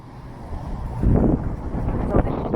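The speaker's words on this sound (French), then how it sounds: "Il y a du vent." Gusty wind blowing through an outdoor vegetable and fruit garden, a steady low rumble buffeting the microphone and swelling louder in bursts, with occasional rustling.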